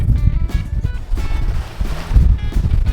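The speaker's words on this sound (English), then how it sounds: "the wind is averaging 18 to 20 to 21 knots of wind, which is good" Wind buffets a sailboat heading upwind into waves in 18 to 21 knot winds, a steady rough rush of wind noise over low hull and water sounds, close and continuous without speech.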